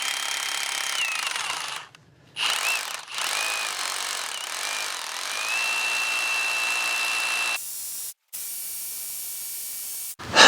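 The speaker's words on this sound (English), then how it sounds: "Let's try and drill this last hole" A Bauer 20v brushless 1-inch SDS rotary hammer drills into concrete with a loud, continuous hammering rattle. It cuts out briefly twice in short pauses, then resumes before stopping near the end.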